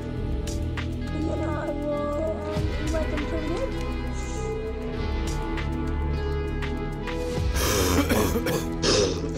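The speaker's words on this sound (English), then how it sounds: "my cough is horrible" Several rough coughs and throat-clearing bursts, close and fairly loud, with a louder cluster near the end over a steady background hum.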